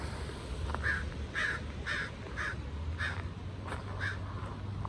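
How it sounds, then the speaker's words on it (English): A crow caws repeatedly in a steady series of harsh calls, moderately distant, over a constant low rumble of a flowing river. "I hear a bird. Oh, that's a black bird over there."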